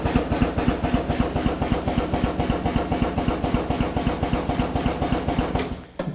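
An ATEX pneumatic power clamp drum tipper tilts a drum back to vertical with a loud, rapid, regular chugging pulse that stays steady, then tails off near the end, with no voices.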